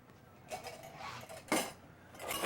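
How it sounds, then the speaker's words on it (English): Kitchen utensils clink and clatter close by as they are gathered and put away, with a few brief metallic bursts and soft handling noise between them, and no talk. "Let me get rid of some of these utensils as well."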